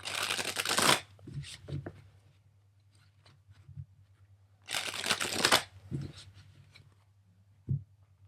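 Tarot cards are shuffled by hand in two brisk riffling bursts several seconds apart, with soft taps and card handling between them and no talk over the shuffles.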